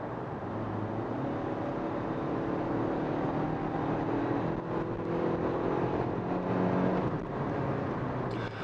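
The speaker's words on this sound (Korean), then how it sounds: "일단 컴포트 모드에서 제가 한번 가속 주행을 해볼게요" A Hyundai Grandeur IG with a 2.4-litre engine accelerates in comfort mode from 80 km/h to overtake on a highway. Inside the cabin, a loud steady engine drone climbs in pitch as the revs rise.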